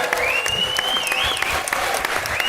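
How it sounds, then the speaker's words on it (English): A crowd gives a rousing round of applause for a team, steady clapping that fills the room for a couple of seconds, with a thin whistle-like tone gliding above it. "I want to give Evelyn and her team a rousing round of applause for an incredible, incredible job"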